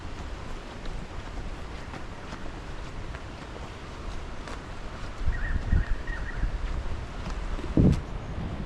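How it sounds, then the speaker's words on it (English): Wind blows across a canyon hiking track on a sunny day, a steady rough rushing with gusts that swell midway, joined by faint rustling and a couple of nearby bumps. "Sun's out, but the wind's picked up as well"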